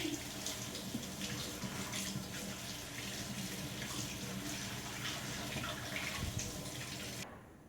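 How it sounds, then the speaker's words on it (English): Water runs steadily from a kitchen tap while hands are rinsed, a continuous close hiss and splash that cuts off abruptly at the end. "Now let me rinse my hands."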